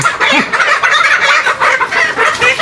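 Several chickens cluck busily up close during vaccination, overlapping calls in quick irregular bursts throughout.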